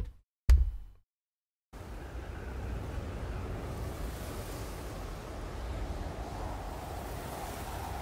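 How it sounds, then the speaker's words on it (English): Steady wind rushes and buffets the microphone after a brief thump and a moment of silence, continuing evenly to the end. "It's windy."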